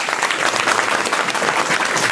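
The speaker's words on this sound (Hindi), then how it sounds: "ताली बजाइए एक बार" A classroom of students at a physics coaching centre in Jamui claps together: a dense, steady burst of many hands, loud and close, with no talk over it.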